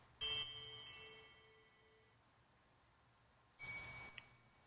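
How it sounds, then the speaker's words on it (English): Two soft bicycle bell chimes sound as a ringtone from a Z4 smart watch speaker: a bright ding that rings and fades, then a gap of silence, then a second ding near the end. "Oh, barely hear that one, the bicycle bell."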